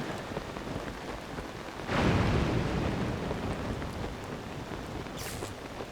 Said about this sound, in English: we're about to get struck by lightning